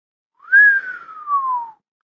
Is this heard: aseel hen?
no